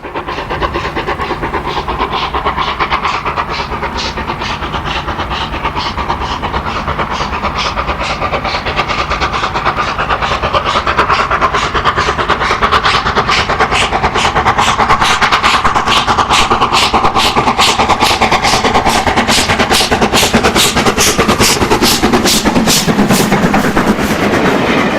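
British steam locomotive 45231 climbs Washford Bank on the West Somerset Railway in March 2009. Loud, heavy exhaust beats roar steadily and close, with a rapid rhythmic pulse that grows sharper as the engine works up the gradient.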